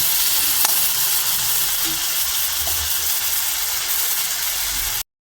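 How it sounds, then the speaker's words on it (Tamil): Steady bubbling sizzle from a kadarangai citron pickle mixture simmering in a pan on the stove, a constant close hiss with no voices, cutting off abruptly at the end. "இது ஒரு அஞ்சு நிமிஷம் இதில் வந்து நம்ம சிம்மில் வச்சு கொதிக்க விட்டோம்னா"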